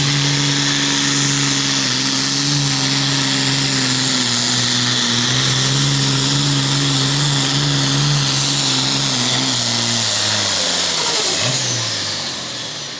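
The Get Her Done 640 Pro Farm pulling tractor roars loud and close at a pull in Leaf River, Illinois, its engine holding a heavy, strained drone that shifts pitch and fades slightly near the end.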